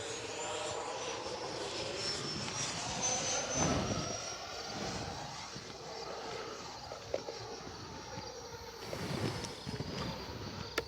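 E-flite F-16 Thunderbirds 80mm electric ducted-fan RC jet flying overhead on its maiden flight, a steady rushing whine that swells and fades as it passes, continuous and fairly loud with outdoor wind noise.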